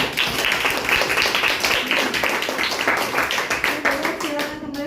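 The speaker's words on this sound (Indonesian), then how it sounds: "tepuk tangan buat." Classroom applause from students after a group presentation: a dense run of handclaps with voices mixed in, steady and fairly loud throughout, tapering off at the end.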